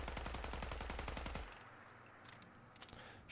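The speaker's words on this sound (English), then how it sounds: "we're going to go over the assault rifle, so we're going to go ahead and mag dump" A fully automatic assault rifle in Fallout 4 empties its magazine in a loud, rapid, even burst that stops halfway through, leaving faint clicks and handling noises afterward.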